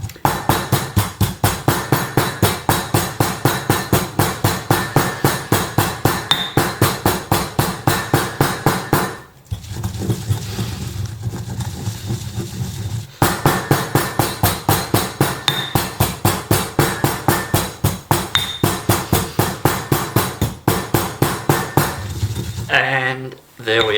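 Spices being ground into curry powder, a fast regular rhythm of sharp pounding strikes that stops briefly midway and then resumes, loud and close with no talk.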